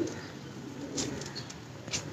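Pigeons coo nearby with soft, low repeated calls, and a couple of brief brighter chirps rise over a quiet background.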